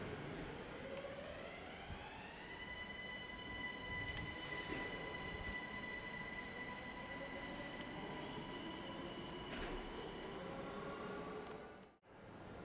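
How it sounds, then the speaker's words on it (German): An S-Bahn S1 train pulls into the platform at Wien Mitte station in Vienna, with a steady rumble and rising electric motor whine. Brief squeals join it as it rolls in, heard from the platform at moderate distance. "S1 nach Wien-Floridsdorf fährt ein."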